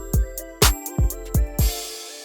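Trap beat with 808 bass notes in thirds: five or six short, deep booming hits in quick succession, each with a punchy click on top, ending in a brief wash of hiss.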